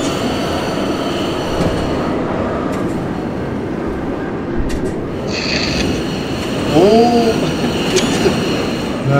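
Metro train running in the Garry's Mod Metrostroi subway simulator: a continuous loud rumble of wheels and motor with clicking rail joints and a brief wheel squeal near the end, with no speech over it.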